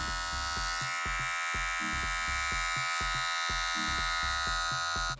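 Kiepe Rivale hair clipper motor buzzing steadily at about 5,000 RPM, a loud continuous electric hum with a rapid pulsing rhythm, close up and alone until it cuts off at the end.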